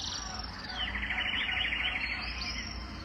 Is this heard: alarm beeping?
no